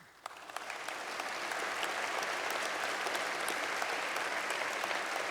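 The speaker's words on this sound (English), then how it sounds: "I think you will deserve a round of applause from the students" Sustained applause from a graduation ceremony audience of students, a dense steady clatter of many hands that swells in quickly and holds at full strength throughout.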